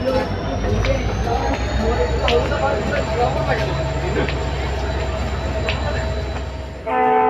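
A train rumbles steadily at a railway station, a constant heavy roll with a high whine, the noise swelling briefly near the end, while people talk over it.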